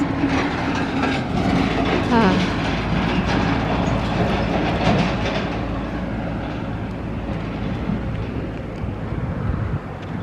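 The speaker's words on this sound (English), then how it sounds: "it's a heck of a noise scraping those rocks on the ground" A heavy machine grinds and scrapes rocks along the ground in a continuous, loud, gritty roar that eases slightly toward the end.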